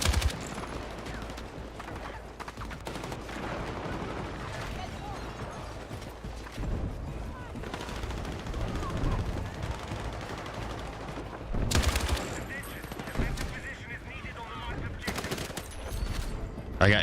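Video game gunfire sounds in rapid bursts and crackling volleys, loud and close, with sharp spikes, continuing throughout alongside game noise and some voices.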